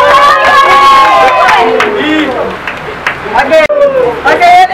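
A group at a summer camp gives a burst of cheering and applause, loud and close. Voices shout over it and the noise trails off into scattered calls and claps.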